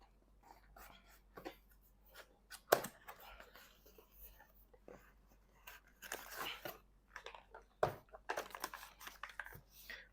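A DJI Neo drone Fly More Combo package is unboxed: quiet close crinkling, rustling and crunching of cardboard and packaging, with scattered taps and handling noises at low volume.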